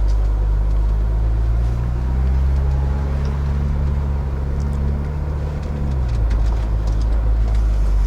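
A BMW E92 335i with the N54 engine, axle recently swapped, drives slowly up a small hill, its low engine drone steady and close, pitch shifting as it climbs, then easing off near the end.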